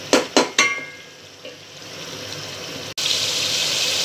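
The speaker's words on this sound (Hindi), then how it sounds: "ये मैं इसे भून लूँगी थोड़ी देर, बस भूनेंगे दही डालने के बाद 1-2 मिनट" Masala with yogurt frying in a pan for matar aloo pulao: a few sharp clanks at the start, then a low steady sizzle that swells into a louder, continuous hiss after a brief drop.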